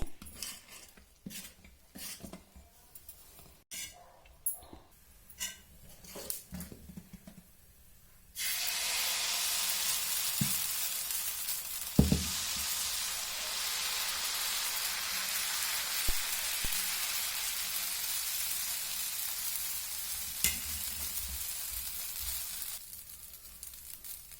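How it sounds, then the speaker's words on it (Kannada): Millet dosa batter meets a hot pan: a few light clinks and clatters of utensils come first, then a steady, loud, continuous sizzle takes over and holds to the end. "ಈಗ ನಾನು ದೋಸೆ ಮಾಡ್ತಾ ಇದ್ದೀನಿ"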